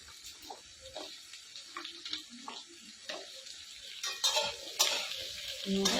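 Potatoes and chopped chilli hit a pan, with soft clinks and stirring scrapes building into a light, quiet sizzle near the end.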